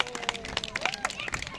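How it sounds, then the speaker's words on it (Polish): An audience at a village festival in Worgule, Poland, claps in a quick, dense patter that holds steady through a brief burst, with crowd murmur mixed in. "Wielkie brawa dla was, że jesteście"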